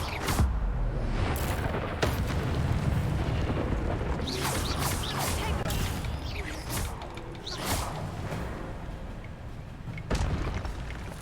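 An Incendio fire spell cast in Hogwarts Legacy, heard as a series of whooshing bursts and booms spread across the clip amid game mechanisms, moderately faint with no talk.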